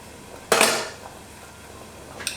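A lid clanks down onto a cooking pot of rice and sweet potatoes in a home kitchen: one sharp metallic clatter with a short ringing decay, then a quieter tap near the end, with no talking.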